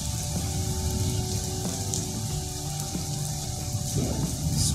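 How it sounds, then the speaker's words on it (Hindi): Steady rain falling outside at a university campus in Hainan, China, a dense continuous patter with faint background hum and a few soft knocks, no talking. "बाहर तो बारिश हो रही है।"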